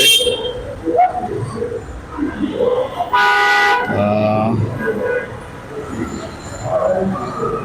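A metro train horn blares for about a second amid rumbling station and street noise, with people talking in the background before and after.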